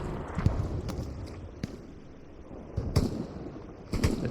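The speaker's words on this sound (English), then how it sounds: "Let's see where the shot came from." Sharp gunshot blasts from tanks in a Utah Beach World War II battle game, three or four distinct booming cracks spaced over a few seconds above a steady rumbling background.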